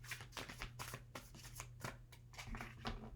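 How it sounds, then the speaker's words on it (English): Tarot cards are shuffled close up in a quiet room, with a rapid run of soft riffling bursts and flicks and no talk. "One more shuffle just to see."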